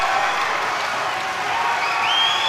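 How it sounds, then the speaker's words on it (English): At an amateur boxing championship bout, a packed arena crowd roars, cheers and applauds loudly and continuously as the fight ends. "The crowd go wild."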